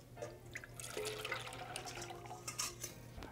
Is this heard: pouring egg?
yes